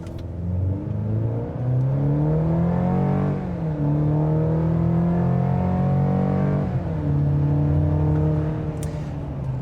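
A 2024 GMC Canyon AT4X AEV pickup with a 2.7-litre turbo engine launches hard from a brake-torqued standstill, its engine note climbing loudly through the gears with brief dips at each shift, close and steady with no talk.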